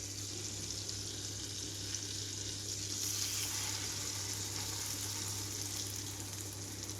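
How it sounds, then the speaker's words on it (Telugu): Egg-dipped bread frying on a flat pan over a medium flame, a soft continuous sizzle with faint background hiss, quiet and steady, no talk. "ఎగ్ మిశ్రమంలోకి ఇలా బ్రెడ్ని డిప్ చేస్తున్నాను రెండు వైపులా తిప్పుకొని చక్కగా తీసుకొని పెనం మీద వేసేస్తున్నాను"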